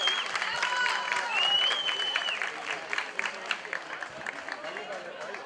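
Audience applause at a village tribute in Barranco Andrés y Soria, dense clapping with some whistles and voices mixed in, loud at first, then thinning and scattered toward the end.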